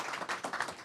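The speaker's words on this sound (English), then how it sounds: "Ladies and gentlemen, give him a big round of applause." Under a second of soft, scattered clapping from an audience at a football spotlight session, faint and uneven.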